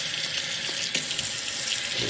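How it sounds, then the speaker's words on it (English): Water running steadily from a kitchen sink tap as it warms up, a constant close hiss and splash without a break. "Wait for the water to get warm."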